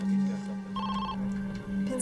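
A telephone rings in a police station setting, a steady electronic ring tone with a continuous low buzz and brighter warbling tones partway through, fairly close and alone without talk.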